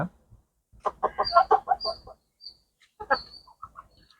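A hen clucks in a quick run of short, close calls, then falls quiet before a few more clucks near the end.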